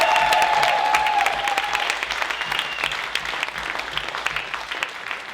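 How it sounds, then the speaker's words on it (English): Audience applause for a singer at a comedy and music show, a sustained crowd clapping that stays fairly loud throughout, with a brief tonal sound near the start. "One more round of applause"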